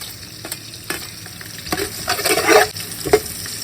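Onions, capsicum and whole spices being stirred in a hot pan for Yemeni mandi, with a steady close sizzle broken by scraping stirs that build to a louder burst of frying in the middle.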